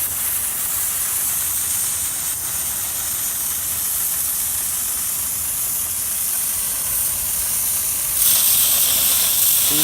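A DeWalt 15-gallon D55168 air compressor pushes air through a sprinkler system to drain it, giving a continuous broad hiss of rushing air that grows louder and brighter near the end.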